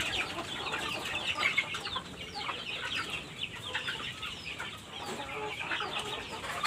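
Backyard chickens, native Filipino hens, cluck and chatter steadily while pecking at grated coconut pulp mixed with a little feed, a dense, continuous flock noise at moderate distance with no talking.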